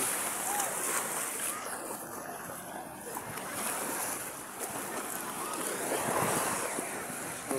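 Surf rolls onto the white sand beach of Boracay as a steady, wind-buffeted wash of waves, with people faintly audible in the background.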